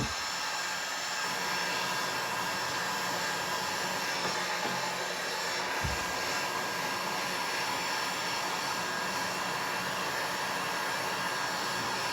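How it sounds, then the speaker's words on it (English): A heat gun set to low blows a steady, even whoosh of air for the whole stretch while it goes slowly over small handmade craft pieces to smooth and shine them, with no voices. "I like to have my heat gun on low just so I don't burn my projects"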